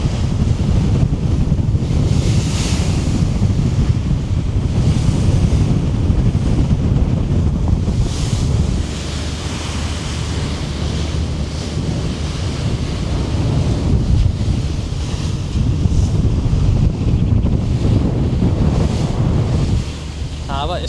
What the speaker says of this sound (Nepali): हावा यस्तो चलिरहेको छ कि मान्छे उडाउने जस्तो है खतरा चल्छ हावा चाहिँ भयङ्करै चल्छ